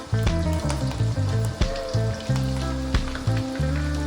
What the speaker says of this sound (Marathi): ते आता छान तापलं आहे आपलं तेल त्यात आता मी मिरचीचे जे राहिलेले तुकडे होते ते घालणार आहे